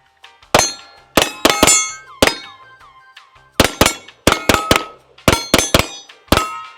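A Wilson Combat Experior pistol fired at steel targets, each shot giving a sharp clang and a long bright ringing tone, in quick bursts of two to four hits with short pauses between them.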